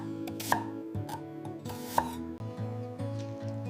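Knife chopping carrots into thin rounds on a board, a series of crisp, close taps in an uneven rhythm with a couple of sharper knocks, no voices.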